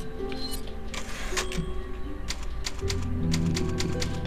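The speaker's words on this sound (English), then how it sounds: "The typewriter." A typewriter save-point sound from the Resident Evil 4 video game, a run of sharp mechanical key clacks and taps over a steady game-music background, moderately loud with no talking.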